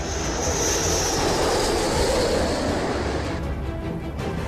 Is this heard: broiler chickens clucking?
no